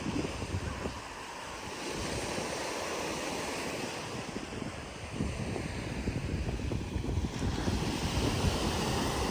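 Surf rolls in at Ettikkulam Beach in Kannur, with steady waves washing ashore under gusty wind buffeting the microphone, the roar swelling louder toward the end.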